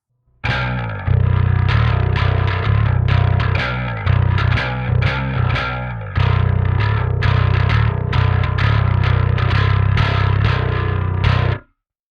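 Crunchy electric guitar through a Parallax X high distortion band set to about 80%, loud and saturated, strummed chords and riffs playing continuously with brief dips, alone without talk.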